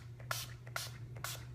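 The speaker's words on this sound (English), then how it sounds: "The last thing I am going to do is put on some of our finishing spray." Finishing spray misted onto a face as the last makeup step, three short pumped bursts of hissing spray evenly spaced over a low steady hum, each burst brief and close.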